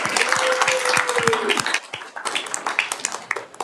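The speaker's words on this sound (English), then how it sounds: "Now let's give everyone a round of applause." At a Key to the City ceremony, an audience gives a round of applause, with dense, lively clapping that fades into scattered claps and a few voices.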